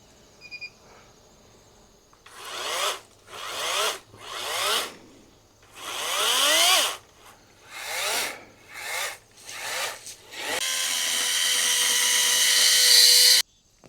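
A chainsaw's pull cord is yanked several times in quick, rasping bursts, then the engine catches and roars steadily, close and loud.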